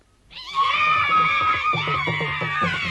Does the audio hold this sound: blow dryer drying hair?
no